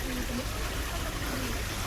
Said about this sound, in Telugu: Water falls.